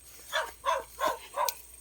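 A dog barks four times in an even rhythm, each bark distinct and moderately close, with no talking in between.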